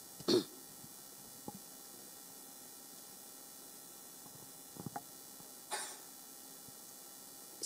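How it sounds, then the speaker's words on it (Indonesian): A sharp cough near the start, a couple of faint throat sounds, then a short sneeze-like burst later in an otherwise quiet room during a church sermon. "Kok bisa tiba-tiba batuk dan bersin."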